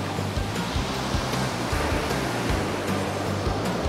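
Ocean waves wash onto a beach in a continuous loud roar of surf with a rushing, hissing texture and no clear speech.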